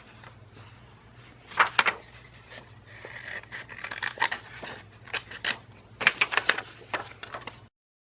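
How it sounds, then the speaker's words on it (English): Scissors snip a shoe picture out of paper, a close series of crisp irregular cuts and small paper rustles, clustered in short bursts with pauses between, no talking. "I'll probably just cut out one of the other shoes to use."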